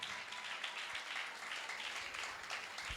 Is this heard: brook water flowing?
no